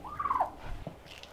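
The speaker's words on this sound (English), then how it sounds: "The missus just asked if these turkeys had let me alone lately." A turkey lets out a single loud, quick gobble close by outdoors, a brief rattling burst followed by faint rustling.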